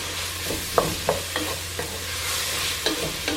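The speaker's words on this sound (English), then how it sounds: "now we're going to put in the garlic. And we're going to mix this up" Garlic and red pepper flakes cooking in a pot for minestrone soup crackle with a steady close sizzle, broken by several scraping stirs of a spoon against the pot bottom.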